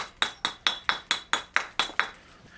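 A hard hammerstone strikes flint during knapping: eight sharp, glassy clinks in a quick, steady rhythm, close and crisp, each dying away fast before the next, with no voices.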